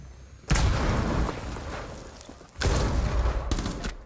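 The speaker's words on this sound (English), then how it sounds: "I accidentally just shot him because he came around the corner too fast and I got scared" Two sharp, loud gunshots in Rainbow Six Siege, each a sudden blast with a booming tail, followed by a quick cluster of further pops near the end.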